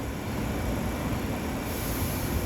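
An LIRR commuter train of M7-style cars rolls past on triple track at twilight, a steady broadband rumble of wheels and motors that holds level and fairly distant throughout.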